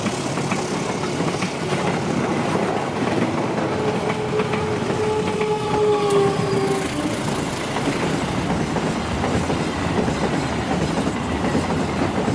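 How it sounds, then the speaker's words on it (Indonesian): A Ronggo Kargo freight train rolls past on the rails with a steady, loud rumble and clatter of wagons, a faint high tonal squeal rising briefly in the middle. "Barusan lewat kereta api Ronggo Kargo"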